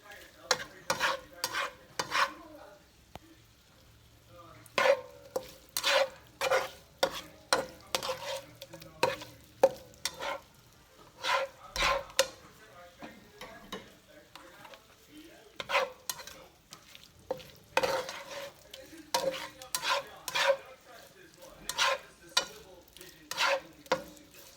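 Shrimp cook in a hot skillet with a sizzling hiss, broken by repeated bursts of stirring and scraping that come in irregular clusters, close and fairly loud.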